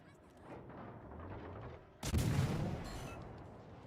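A battleship fires its heavy guns in World of Warships: Legends, one loud booming blast breaking in halfway through, its rumble lingering over low game noise and faint background sound.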